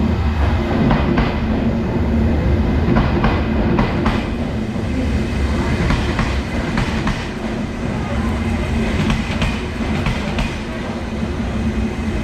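A Railjet train between Budapest and Vienna rumbles steadily along the rails, a continuous loud roar with faint rhythmic clacking of wheels, heard from inside the carriage.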